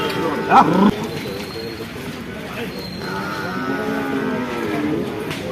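A buffalo at the Kollannur cattle market gives one short, low, throaty call near the start, then market chatter and bargaining voices carry on over a steady outdoor hubbub.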